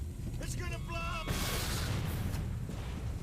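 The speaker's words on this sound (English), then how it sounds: "It's gonna blow up!" Explosions in the game F.E.A.R., set in a secret lab: a voice cries out briefly, then a loud, sustained roaring blast with rumbling debris fills the rest of the moment.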